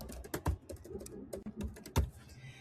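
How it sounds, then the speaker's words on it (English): A few quick keystrokes on a computer keyboard while entering a recipe, close and distinct, as uneven clicks and taps in a short burst. "you'll just type your recipe directly onto the page"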